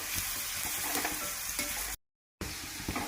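Onions frying with salt in a pan for a prawn chilli roast, a steady close sizzle and crackle with occasional stirring scrapes, broken by a brief silent gap before the sizzling resumes.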